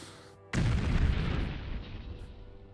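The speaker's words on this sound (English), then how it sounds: "An ominous explosion." Sudden deep blast of an explosion in the video game Morrowind, preceded by low ambient hum, then a heavy booming burst that rumbles and slowly decays over a couple of seconds.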